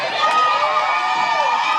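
A congregation at a Tanzanian gospel meeting keeps up loud, sustained ululation and cheering, high trilling voices blending into one continuous wash.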